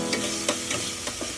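White onion frying in a pan, a steady crackling sizzle with a few brief scraping stirs of a utensil, close and clear with no talk.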